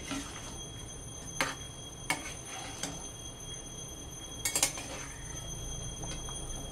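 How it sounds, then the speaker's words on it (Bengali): Raw mung dal with vegetables and salt is stirred in a pan with a utensil, giving sparse metallic clinks and scrapes close by over a steady low background hum, with no talking. "এবার এটাকে আমি ভালো করে নেড়ে চেড়ে মিশিয়ে দিচ্ছি।"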